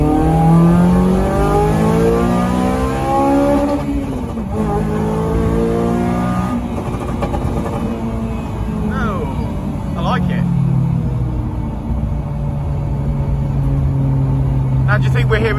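A stripped-out Honda Civic Type R FN2 on a crackle map revs and accelerates hard on a road, engine note rising and falling through gear changes with pops, loud inside the cabin while people talk over it.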